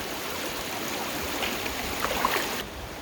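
Cold stream water rushes and splashes around the legs while wading a wet crossing on the Boardstand Loop hiking trail, a steady broadband flowing hiss with a few louder sloshes near the end.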